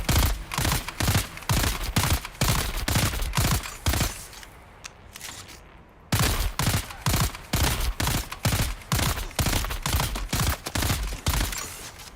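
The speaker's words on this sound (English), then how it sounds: "How many more bullets to pop that damn shield?" Rapid bursts of video game gunfire hammer at an enemy shield in a base-building survival game, loud and rhythmic, pausing for about two seconds midway before the shots resume at a steady pace.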